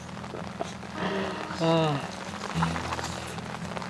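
Rain falls steadily at a summer campsite under a tent shade, a continuous close patter that runs beneath someone speaking.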